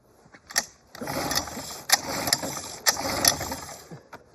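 A Mercury 110 9.8HP outboard engine being pull-started, with several rattling mechanical bursts from the cord pulls that sputter briefly without catching into a steady run.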